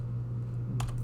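Computer keyboard clatters in a quick short burst of a few keystrokes over a steady electrical hum.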